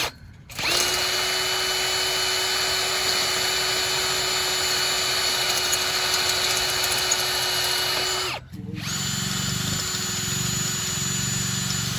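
A power drill drilling tent poles whines steadily and loudly for about eight seconds, stops briefly, then runs again at a lower, rougher pitch.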